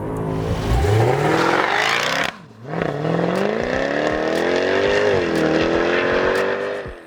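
A 2016 Jaguar F-Type R Coupe revs hard with a loud, close engine roar that rises in pitch, cuts off sharply for a moment, then climbs again through another long pull, with faint crackles at the edges.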